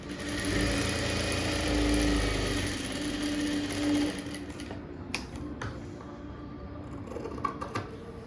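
Blouse fabric is stitched on a sewing machine that hums steadily at close range for about four seconds, then stops, leaving quiet handling clicks and taps.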